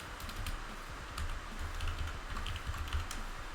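Someone types a wallet passphrase on a computer keyboard, a rapid run of soft, close key clicks with no talking.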